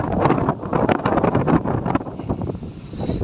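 Strong wind buffets an outdoor microphone near a rural house where the ground has hardened, a loud, continuous roar with gusting surges and no voices.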